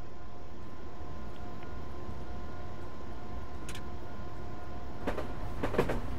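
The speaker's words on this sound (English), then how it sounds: "It's relatively easy to drive the electric train here" Electric train running in the Train Simulator 2013 game on the LB Purley route, a steady rumbling drone with a faint tonal hum and a few sharp clicks near the end, no talk.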